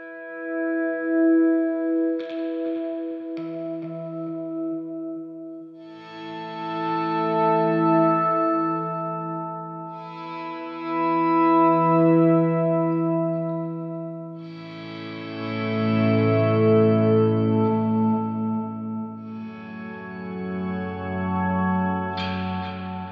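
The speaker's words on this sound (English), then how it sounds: "I'll actually turn the high octave up, keep a little bit of that low octave in, and then combine it with some other effects and get this kind of a sound" Ambient guitar runs through an octave effect with the high octave up and some low octave mixed in, plus other effects on an Atomic Amplifire, giving a lush, organ-like sound. Slow, swelling chords repeat in waves, each sustaining and fading.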